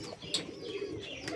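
Pigeons kept by a pigeon keeper in Rangpur coo faintly in low, soft murmurs, with a light flutter or scrape heard briefly among them.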